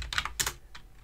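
Computer keyboard keys tapped in a quick burst of several clicks, then a pause and a few scattered keystrokes, close and fairly quiet with no talking.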